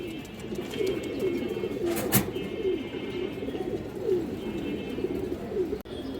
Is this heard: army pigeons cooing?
yes